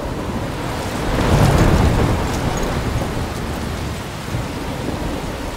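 A thunderstorm in the video game Life Is Strange: heavy rain hisses steadily while a rolling thunder rumble swells and fades, with no one speaking.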